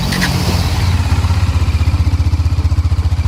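A Bajaj Dominar 400 motorcycle engine cranks on the starter and catches, settling into a steady, throbbing idle with a deep, regular pulse, loud and close.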